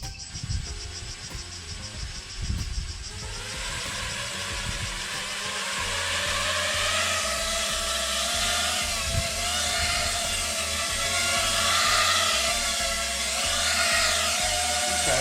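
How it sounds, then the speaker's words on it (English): Small FPV quadcopter drone fitted with Gemfan Hurricane 4.5x2.5 three-blade props, spinning up to a steady, loud, high-pitched buzzing whine that holds through a hover with slight throttle swells, no voices. "So we'll do a quick hover and a punch out"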